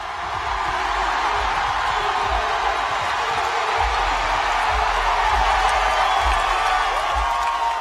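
A crowd cheers during a CrossFit competition workout: a steady wash of cheering and shouting from many people, sustained and fairly loud throughout, with low thuds underneath.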